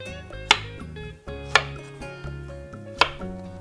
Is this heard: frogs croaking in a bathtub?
no